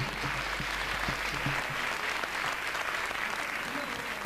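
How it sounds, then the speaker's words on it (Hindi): Steady applause from an audience, a continuous wash of many hands clapping at even loudness throughout, with no break. "एक बार तालियां बजा के मेरा स्वागत कर दीजिएगा"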